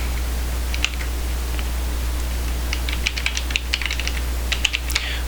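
Keys clack on a computer keyboard in a few short bursts of close, light taps over a steady low hum, with quiet pauses between the runs.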